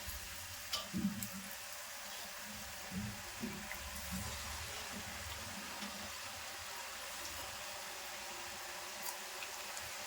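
Balls of bonda dough frying in hot oil, a soft continuous sizzle with faint bubbling that stays low and steady throughout, with no voices.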